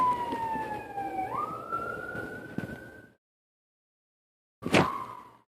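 An ambulance siren sweeps past on a street, its wailing pitch sliding downward as it goes by, loud and close over traffic noise, then cutting off; a second brief burst follows after a silent gap.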